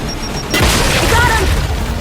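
A frag grenade detonates in the Gears 5 video game, a single loud close boom rolling out after a brief warning beep, with a voice shouting over it.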